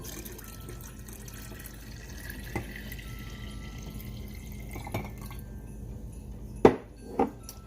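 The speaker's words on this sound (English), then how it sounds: "Add in some water." Tap water runs into a non-alcoholic cranberry orange cocktail mix as a quiet, steady flow, followed by a couple of sharp clinks near the end.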